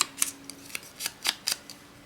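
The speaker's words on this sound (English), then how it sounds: "I'm going to cut that right there, like that." Scissors snip something at a desk, a series of about eight quick, crisp close cuts spaced at a steady rhythm with no voices.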